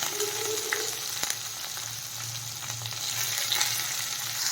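Chopped onion and green chillies fry in hot oil in a pan, producing a continuous dense sizzle with an occasional stirring scrape, close and steady, with no voices.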